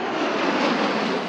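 A World War II B-25 bomber's piston engines roar steadily at an air show in Duluth, a loud, close, continuous drone with no talk.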